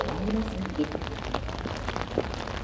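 Steady patter of rain falling on a surface at the E-World amusement park carnival in Daegu, South Korea, with someone speaking over it throughout.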